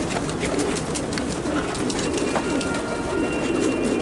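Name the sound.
pigeons cooing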